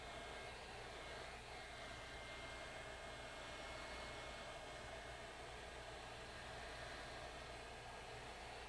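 Heat gun blowing on an iPad 2 to loosen battery adhesive, a faint steady whooshing airflow hum that runs unbroken throughout with no talk.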